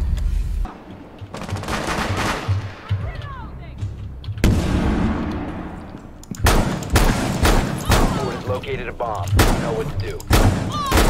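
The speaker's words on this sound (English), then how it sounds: "Oh, I'm under fire." Rapid bursts of gunfire and booming shots from the tactical shooter game Rainbow Six, loud and repeated in clusters with brief gaps, while players talk excitedly over the fighting.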